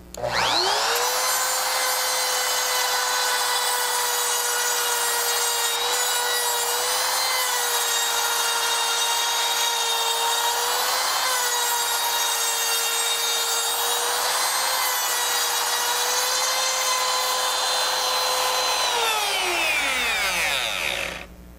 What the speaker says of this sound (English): my router set to cut a 1/16 inch deep groove, I'm ready to make my first circular cut